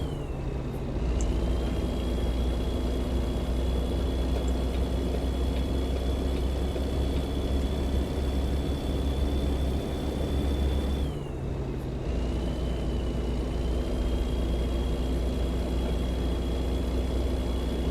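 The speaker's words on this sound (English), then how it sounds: "That's a tough engine there." A powerful truck engine, a Chevy S10, idles loudly and steadily with a deep, constant rumble and a faint whine above it, briefly dipping in pitch partway through.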